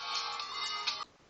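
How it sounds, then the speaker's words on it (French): A phone ringtone chimes briefly, a bright electronic melody lasting about a second before stopping, fairly quiet with no one speaking. "c'était ma sonnerie de téléphone du coup."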